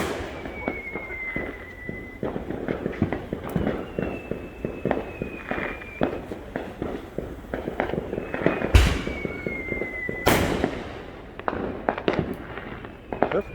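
Backyard fireworks show with neighbours also setting off shells: dense rapid crackling and popping bursts throughout, several whistling rockets rising, and two sharp louder bangs near the end, heard outdoors at close to moderate distance.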